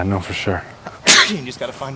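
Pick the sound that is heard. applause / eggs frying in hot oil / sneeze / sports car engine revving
sneeze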